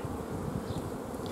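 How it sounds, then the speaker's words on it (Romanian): Honeybees working at a hive during a strong nectar flow hum in a dense, even buzz, a constant low drone from many wings heard close by with no voices. "văd că albina lucrează"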